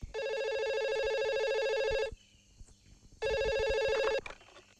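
A telephone rings in two long electronic bursts separated by a short pause, loud and close.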